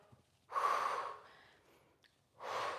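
Breathing during a home Pilates workout: two strong, audible exhalations, the first long and airy, the second starting near the end, close to the microphone with quiet pauses between.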